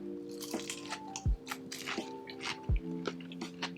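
Two crisp bites into a pickled tomato served alongside fried chicken, each a short sharp crunch-squish, close to the mic, over a steady background hum with faint clinks.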